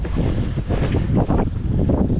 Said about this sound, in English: It's windy here, it's very windy